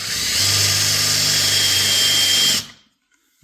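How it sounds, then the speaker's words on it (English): A drill whirs at a steady pitch for a couple of seconds, then abruptly stops, leaving near silence; a long drill bit driven by hand in guitar repair. "I'm just going to take a long drill bit here. Drill this in by hand."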